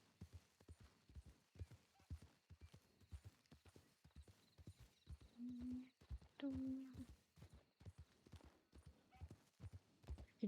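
Steady rhythmic hoofbeats of a horse moving along in a video game, close and fairly faint, with a couple of brief tonal game sounds partway through.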